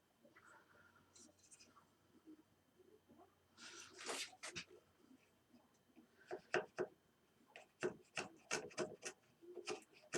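A small router plane cuts a groove or dado in wood, giving close, scratchy rasping strokes in irregular bursts, with short pauses and faint handling noises between cuts.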